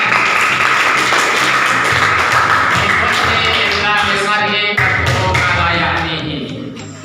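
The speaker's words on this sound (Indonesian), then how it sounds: "Iya, kita beri tepuk tangan." A madrasah class of students applauding together in a classroom, a dense, steady wash of clapping that holds for several seconds before tapering off near the end.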